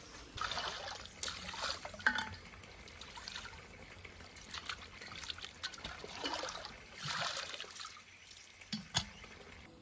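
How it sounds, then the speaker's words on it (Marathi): Dishes being washed in water outdoors, with soft trickling, dripping and splashing water and occasional clinks, fairly faint and intermittent, with no voices. "चला मंडळी आपण चाललो खरं हे डिशे आणि थंय धुऊया पाण्यात"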